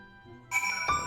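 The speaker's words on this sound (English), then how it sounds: "You can hear the bard still playing in the background." Bard music in Final Fantasy XIV, a short bright plucked phrase that starts abruptly and rings over a quiet background tone, fairly faint.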